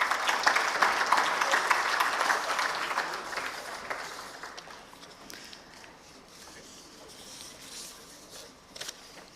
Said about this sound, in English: Ladies and gentlemen, a big round of applause, please.